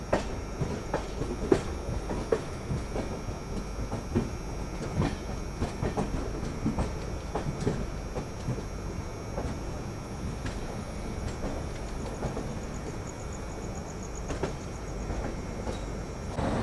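A Banaras SF Express train running out of Mumbai's LTT station, heard from inside a 3rd AC coach: a steady rumble of the moving train with faint wheel clatter throughout, fairly quiet and with no talk.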